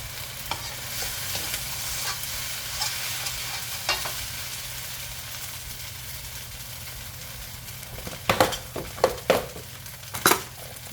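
Pork belly stir-frying in a wok over high heat with oyster sauce, giving a steady close sizzle throughout, with a few sharp metallic scrapes and clanks of the spatula near the end.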